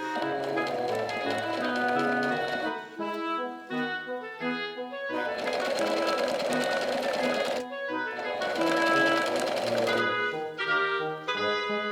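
Sewing machine stitching bias tape onto a dress, running in loud, steady bursts with short pauses between them, close up and without talk.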